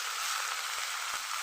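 Mixed leafy greens, pipul shak, sizzle steadily in a hot pan, a continuous bright frying hiss with a couple of soft stirring knocks as they are turned.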